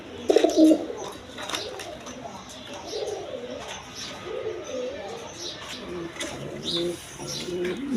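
Giribaz pigeons on a pigeon farm give soft, repeated cooing calls near at hand, with faint chirps and background noise and a person talking intermittently.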